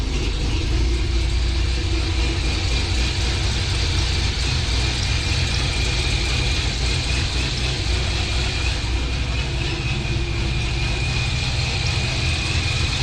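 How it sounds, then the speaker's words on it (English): A Corvette Z06 fitted with a ProCharger P1SC supercharger idles in a shop, a loud, steady close-up engine rumble with a thin supercharger whine sustained throughout, with no talking. "Definitely has a little Pro Charger whine, supercharger whine."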